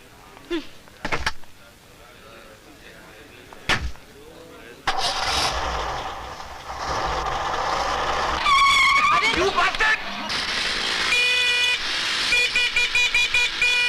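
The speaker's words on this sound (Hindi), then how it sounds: "सीताराम, गाड़ी चलाओ" In a Bollywood film scene, a car pulls away: door thuds and knocks, then an engine starts and roars steadily, with rapid horn toots near the end and voices over the top.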